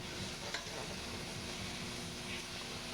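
Browning pieces sizzle in a hot pan, giving a constant close hiss with a brief stir or clink near the start.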